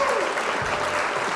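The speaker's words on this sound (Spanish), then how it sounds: "Un aplauso para ellas." Applause from a crowd honoring two women boxers, a steady wash of clapping throughout the brief moment with a faint voice rising near the start.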